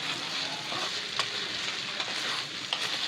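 Sago upma stirred in a frying pan, a soft continuous sizzle with faint scraping strokes of the spoon at irregular intervals, close and quiet.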